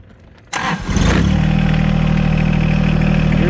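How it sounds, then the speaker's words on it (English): A John Deere tractor's little three-cylinder Yanmar diesel cranks and catches after a quiet half second, then settles into a loud, close, steady clattering idle. "get the old John Deere fired up. We got to wait on our glow plug light to go out. This is a diesel, little 3-cylinder Yanmar"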